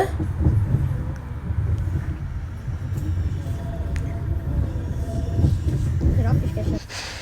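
A Swiss train between Zürich and Bellinzona rumbles steadily along the tracks, heard from on board, with low rolling noise and occasional clanks under intermittent talking.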